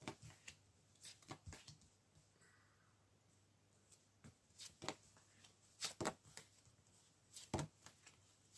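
Tarot cards are shuffled quietly, with soft riffling bursts and sharp taps as the deck is squared, coming in irregular clusters separated by near silence.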